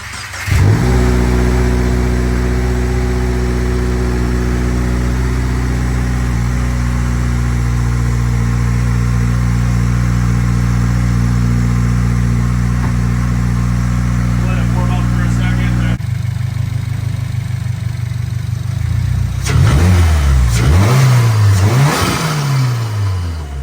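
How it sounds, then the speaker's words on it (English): A 2022 Subaru WRX engine, fitted with a Perrin charge pipe and ETS cold air intake, idles loudly with a deep, steady rumble, then starts up and revs repeatedly in rising and falling bursts. "we're going to do a quick startup, get some revs"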